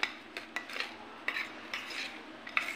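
A spoon stirring boondi raita in a bowl, giving soft scraping swirls and a few light clinks against the bowl, close and quiet with no talking.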